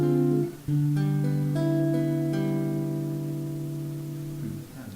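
Guitar chords ring out in sustained voicings, stepping through 7th chord inversions with half-step passing movement between them. Each change is struck cleanly and left to decay, with no talking.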